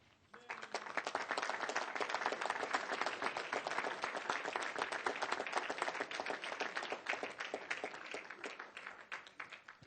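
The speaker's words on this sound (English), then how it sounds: "so we can give you a round of applause" At a city council meeting, the room breaks into applause for a building and safety team, dense rapid clapping swelling in quickly, holding strong and steady, then thinning toward the end.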